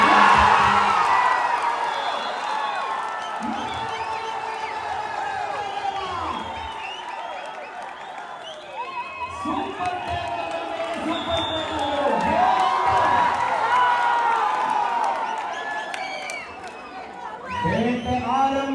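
Crowd applause and cheering at a Mysore divisional-level kabaddi tournament, a sustained wash of clapping and whoops that swells and dips across the clip while an announcer speaks over it.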